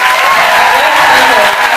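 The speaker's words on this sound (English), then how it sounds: "I would love for us to give a big round of applause to this amazing" An audience gives a big round of applause at a book launch evening in New York City. The clapping is loud, dense and sustained, with a speaking voice faintly underneath.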